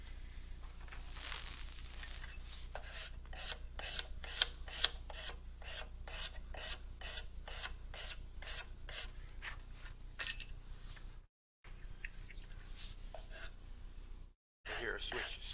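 A hand scraper works the facets of a wooden cabriole leg in a rhythmic run of rasping strokes, close and steady, pausing briefly near the end, with soft talk in the background.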